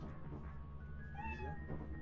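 A cat meows once in the video game Lethal Company, a clear drawn-out mew rising over a busy background of game noise and low rumble.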